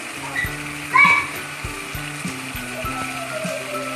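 About 1.5 kg of chicken goes into a karahi of fried spice masala and sizzles steadily under a soft background hiss, with a brief louder burst near the start. Children's voices are heard faintly in the background.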